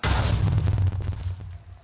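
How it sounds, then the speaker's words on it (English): A Minecraft TNT cannon going off in the game: a loud booming blast opens the moment, followed by a rumbling series of rapid explosion thuds that fade out over under two seconds. "And this is another type of TNT cannon"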